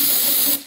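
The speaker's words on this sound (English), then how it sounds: "So with some degreaser, just spray liberally" Degreaser sprayed liberally into a bicycle bottom bracket shell gives a single loud, close aerosol hiss lasting about half a second before cutting off abruptly.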